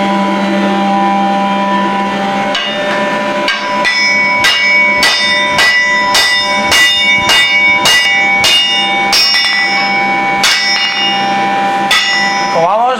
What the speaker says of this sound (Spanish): el maestro el martillo y el aprendiz un mazo de 6-7 kilos para que pueda avanzar el proceso